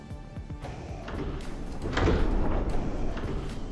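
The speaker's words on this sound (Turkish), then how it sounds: "Kapı açılıyor gibi yapıyor." A sliding door in the Subnautica video game opens with a mechanical rumble that swells partway through and holds as a steady, fairly loud whooshing drone to the end.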